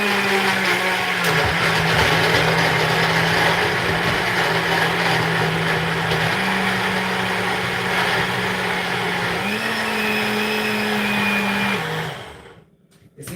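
A kitchen blender chops tomato and carrot for an African stew, its motor whining loud and steady with small pitch steps as the load shifts, before cutting off abruptly near the end.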